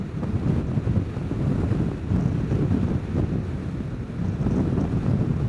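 Heavy, continuous wind buffeting a microphone while riding a Vespa scooter, a loud low roar that surges and dips steadily throughout with no other sounds standing out.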